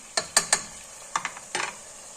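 Chicken karahi sautéed and stirred in a pan, with scattered scraping clinks of the spoon and a light sizzle, several sharp strokes in quick bursts close by, no talk.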